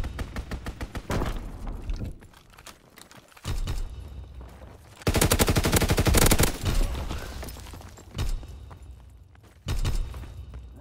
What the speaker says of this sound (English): Counter recon aircraft ready. Strafing run inbound.